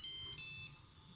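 An Arduino buzzer gives two short, shrill electronic beeps in quick succession, close and clean, with a brief break between them and a faint hum after.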